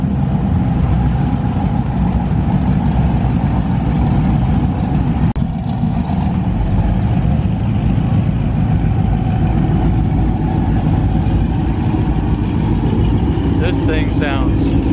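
A heavily modified old Camaro idles in a parking garage at a supercar show, a deep, loud, continuous engine rumble echoing off concrete, with people talking over it.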